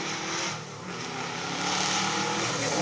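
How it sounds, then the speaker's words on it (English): A Subaru Impreza rally car, a 2002 World Rally Championship-winning production model, drives on a rally stage at a historic rally festival, its engine a steady, loud, continuous roar with no talk over it. "And I do like the way that Subaru Impreza sounds"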